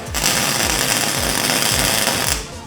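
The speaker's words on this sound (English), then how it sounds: "we are doing a welding shoot with a robot" A robotic welding machine runs in a maker workshop at Nebraska Innovation Studio, producing loud, close, rhythmic buzzing pulses that repeat about three times a second before cutting off near the end.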